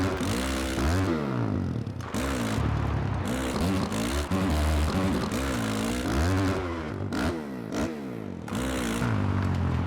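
A KTM motocross bike in MX vs ATV Supercross Encore revs hard and repeatedly, its engine pitch sweeping up and down through gear changes with brief drops between bursts, loud and continuous.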